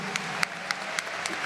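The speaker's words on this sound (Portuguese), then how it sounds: "Então vamos aplaudir com mais força." A church congregation keeps up steady applause, a continuous bed of clapping with a few sharper claps standing out at regular moments.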